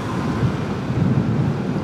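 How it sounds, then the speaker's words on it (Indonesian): Strong wind buffets a DJI Mic Mini clip-on microphone on a moving motorcycle, making a steady, loud, low rumbling roar with gusty fluctuations and no voices. "Wih, anginnya kenceng banget dari kiri."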